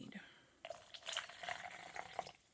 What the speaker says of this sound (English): So we're going to take our cup and we're going to pour a little water in it.